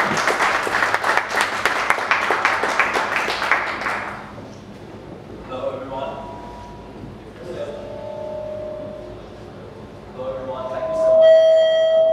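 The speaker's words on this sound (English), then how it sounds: "we stand up and give them applause to welcome them to 1 Million Cups" A standing audience at a 1 Million Cups Dallas gathering applauds to welcome two speakers: dense, loud clapping for about four seconds, then it dies away into quieter murmurs and sustained ringing tones.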